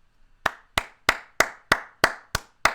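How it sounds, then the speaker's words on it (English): Eight sharp, evenly spaced hand claps ring out close and alone for Dirk Nowitzki, number 41, at his statue unveiling, following a steady beat with no talk. "Round of applause for number 41, baby"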